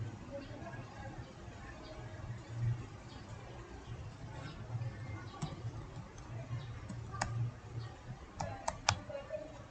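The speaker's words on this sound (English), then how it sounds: "Type the file name as break4.java." Quick, light keystrokes on a computer keyboard as a file name is typed, an irregular patter of soft clicks at close range with a faint voice speaking underneath.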